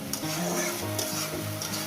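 Tomato and eggplant sizzle and fry on high gas heat for a mashed bharta, a steady close crackle with stirring scrapes in the pan.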